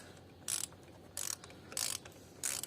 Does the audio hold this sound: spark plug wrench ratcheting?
yes